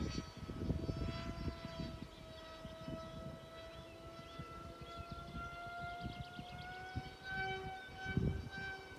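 A Sonicmodell CF Wing FPV plane flies overhead, its electric motor a steady high whine that shifts pitch as it climbs and manoeuvres, with wind buffeting rumbling underneath throughout.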